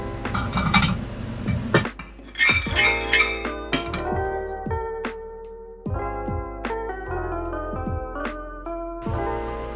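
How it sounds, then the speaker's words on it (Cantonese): Peanuts stir-fried in a hot wok give off a busy run of metallic clinks, clanks and scrapes, irregular and close, with no voices. "趁隻鑊熱就炒埋啲花生"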